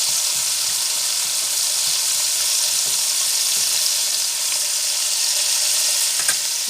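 Leeks cook in a pan with a steady, even frying sizzle that runs unbroken from start to finish, fairly loud and close, with faint stirring or clinks near the end and no talking.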